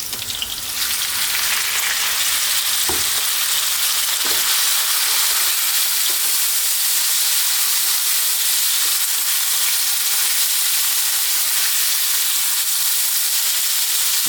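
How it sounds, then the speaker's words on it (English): Beef fries over high heat in sunflower oil with garlic, ginger and black pepper, a loud, dense sizzle that runs for the whole stretch with only a few faint stirring knocks near the start; no one speaks. "keep this on a nice high heat, stir fry this for about 3 to 4 minutes"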